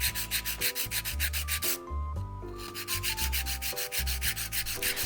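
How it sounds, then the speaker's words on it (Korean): Steady rhythmic rasping of a nail file shaping polygel nail extensions, close and even strokes in a continuous back-and-forth pattern with no talking. "파일링은 뭔가 파일링 소리를 들으면 약간 힐링이 돼서 조금 더 오래 할 수 있어요"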